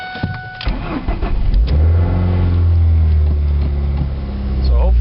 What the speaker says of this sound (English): when you start it up cold, the engine vibrates like crazy